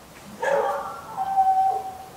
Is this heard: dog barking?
yes